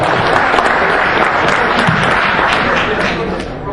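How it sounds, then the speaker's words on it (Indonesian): Loud, dense applause from an audience at a photography book workshop welcomes the author to the stage. Many hands clap at once in a continuous wash that eases slightly near the end. "Tepuk tangan dulu buat Mas Romi Perbawa"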